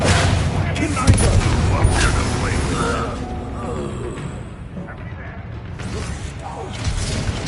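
A Confringo blasting spell cast in Hogwarts Legacy, a sharp burst followed by crashing, rumbling impacts and whooshing effects over busy game background sound.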